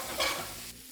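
Pumpkin pieces stirred and fried in a pan over medium to high heat for a Bengali pumpkin bhorta, a short burst of spatula scraping over a steady close sizzle.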